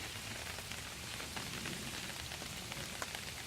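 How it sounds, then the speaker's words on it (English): Torrential rain pours down during flooding in Wheaton, a dense, continuous hiss of drops striking surfaces, steady and loud with no voices. "it's been torrential downpour all day"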